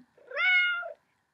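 A single cat meow, clear and close, rising then falling over about a second with no other sound around it.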